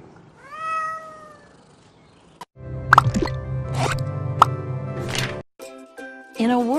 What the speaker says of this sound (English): Your cat's at her house again.